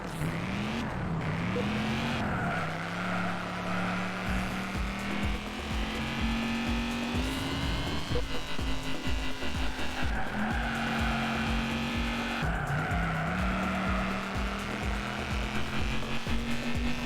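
Racing car engine in the video game Juiced, a steady droning whine that climbs and shifts pitch through gear changes, with bursts of tire squeal and skidding, loud and continuous with no talk.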